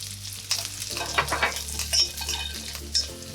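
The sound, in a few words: thyme and garlic sautéing in a pan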